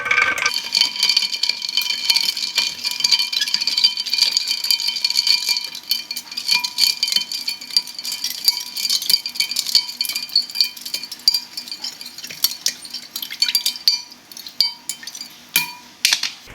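Ice cubes rattle and clink against a glass as it is swirled, a busy run of bright tinkling knocks that thins out over about sixteen seconds.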